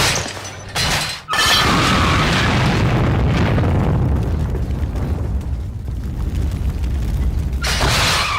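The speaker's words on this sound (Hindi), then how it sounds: "देखो तो पटाखों की तरह गाड़ियों को कैसे उड़ा रही है" Heavy explosions boom and roar one after another as cars are blown up, loud and close, with a rumbling, debris-filled blast continuing throughout.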